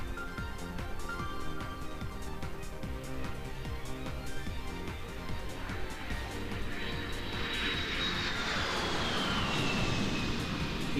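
An airplane in the fighting game King of Fighters 2006 flies over a busy background, its engine roar rising and sweeping louder toward the end.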